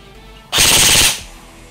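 A single short burst of rapid full-auto fire from an AR16 airsoft electric gun, loud and close, lasting about half a second with motor whir.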